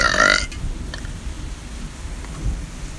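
A single deep, loud burp from a contestant in a burping competition, lasting about half a second. It is followed by faint background noise.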